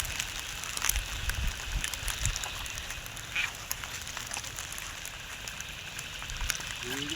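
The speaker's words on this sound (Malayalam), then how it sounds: "ഈ മഴ ശക്തിയായി കൂടുന്നാണ്" Steady heavy monsoon rain in Wayanad, Kerala, during the 2024 floods hisses across a wide area with scattered drips and splashes, a dense wash of noise and a few faint distant calls underneath.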